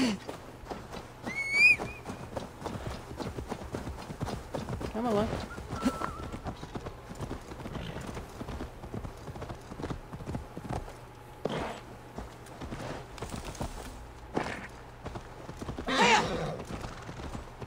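Horse hooves clip-clopping in Assassin's Creed Valhalla, Wrath of the Druids, with occasional whistles and a brief whinny, steady throughout under someone talking over the game.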